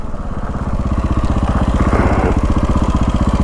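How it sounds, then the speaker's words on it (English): A KTM 525 dual sport motorcycle's single-cylinder engine thumps loud and close in a fast, even pulse, swelling slightly as it pulls under riding. "Man, this bike is fun to ride."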